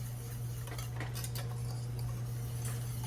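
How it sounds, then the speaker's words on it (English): A whisk scraping and clinking in a bowl as cantaloupe Keto Chow powder is mixed, soft metallic ticks over a steady low electrical hum. "we're going to whisk this until it is all dissolved and mixed together."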